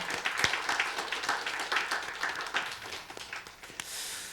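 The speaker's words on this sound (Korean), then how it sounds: "박수로 격려합니다" Church congregation applauding during a New Year's Eve service to encourage a praying mission team, a broad wash of scattered clapping at moderate level with no talk over it.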